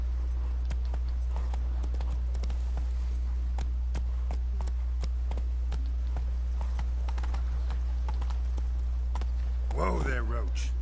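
Roach the horse galloping in The Witcher 3, a steady rapid clip-clop of hooves over ambient game hum, ending with a sharp neigh near the close.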